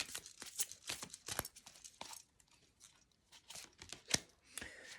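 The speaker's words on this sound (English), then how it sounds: "Let's shuffle and pull a couple more cards." Tarot cards being shuffled nearby, a run of quick crisp riffling and flicking bursts, soft and close, with brief pauses between.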